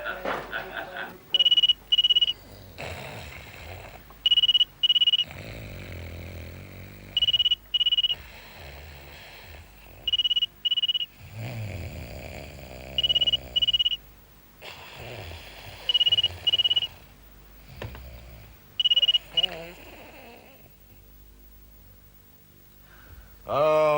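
An old-style telephone rings in repeated short double bursts, loud and close, between stretches of conversation and background music in a Hindi TV drama scene.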